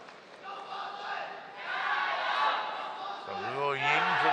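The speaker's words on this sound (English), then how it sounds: "That is greeted with celebration in the crowd." A badminton crowd at the Asia Championships final breaks into cheering and shouting, a loud swelling roar heard in the arena, with a commentator's voice near the end.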